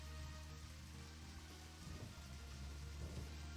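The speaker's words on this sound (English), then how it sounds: "it's raining like crazy up in this" Steady, dense rain pours down in the video game Deadly Premonition, a constant wash of close downpour over low, droning tonal background sound, with no voices.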